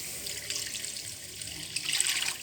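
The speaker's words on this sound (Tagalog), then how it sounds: "Lagyan natin ng tubig." Water pours steadily from a tap into a cooking pot for a home-style dish, a close, continuous hissing splash that grows slightly louder toward the end.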